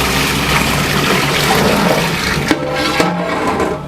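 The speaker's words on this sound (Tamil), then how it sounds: "ஸோ அடுத்தது வாட்டர் ஆட் பண்ணிக்கலாம்" Water gushes steadily into a large pot of prawn biryani, a loud continuous pour up close, with a couple of soft knocks near the end as the flow eases.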